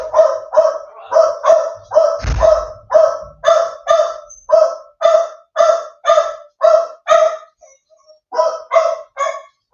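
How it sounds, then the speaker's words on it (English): Several dogs bark loudly and repeatedly in a steady rhythm, close by, with a brief low thump partway through and a short pause before the barking resumes. "Let's just quieten the dogs down."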